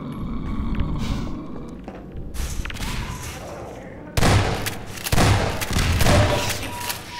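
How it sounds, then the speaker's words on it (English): Grenades go off in a Half-Life 2 firefight on hard difficulty, booming as a few loud, close blasts over continuous gunfire and game noise. "this time I'm gonna throw some grenades and then just run the fuck away"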